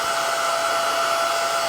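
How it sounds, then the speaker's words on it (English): A hair dryer blows a steady, loud whoosh to dry a coat of acrylic-style paint during colour mixing, constant and close with no pauses. "I'm going to get my hair dryer and just"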